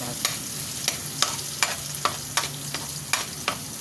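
Onion and garlic sauté in a pan with a soft, steady sizzle, punctuated by regular scraping clicks of a utensil stirring roughly every half second.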